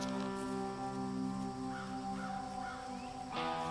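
Mynah birds call repeatedly in a bird barn, harsh nasal caws with rising whistled notes over a steady layered background drone.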